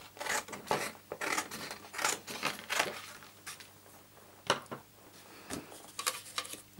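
Scissors cut down a piece of card at a crafting table, a quiet run of short crisp snips in an uneven rhythm, close and alone.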